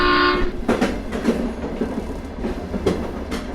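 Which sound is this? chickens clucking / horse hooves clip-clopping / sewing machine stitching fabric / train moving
train moving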